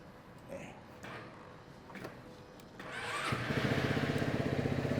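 A Scomadi CP85 scooter engine runs smoothly, a soft rumble rising louder in the last two seconds with a steady pulsing beat, while someone talks over it early on.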